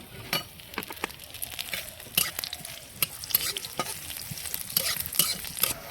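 Neem leaves fry in hot oil in a pan with a steady soft sizzle, broken by repeated sharp clicks and scrapes of a spatula stirring them.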